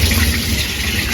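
Strong flow of running water gushing loudly and steadily from close by, a dense continuous rush with no pauses.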